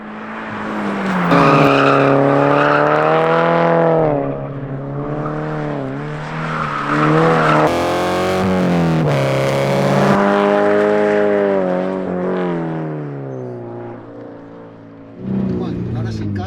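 A Toyota GT86 sports car runs on a circuit, its engine loud and close with revs climbing and falling through sustained, sweeping tones and a brief sharp burst near the end.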